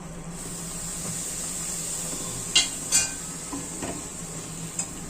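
A ladle of ghee added to besan in a pan and stirred, giving a soft steady sizzle with a few sharp metallic clinks and scrapes of the ladle against the pan, fairly close.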